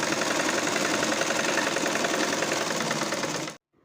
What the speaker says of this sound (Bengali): ইলাস্টিকটা টান করে ধরে মাঝখান থেকে একটা সেলাই দিয়ে দিচ্ছি।